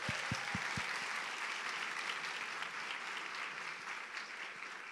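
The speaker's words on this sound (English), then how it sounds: "So a round of applause for them, please." An audience applauds at an animal law conference event, a dense steady wash of clapping after a few sharp claps, heard alone.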